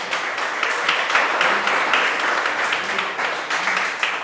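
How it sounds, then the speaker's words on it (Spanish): A church congregation applauds together in a dense, steady burst of clapping that lasts the whole moment, with no pause. "Dale un fuerte aplauso al Señor."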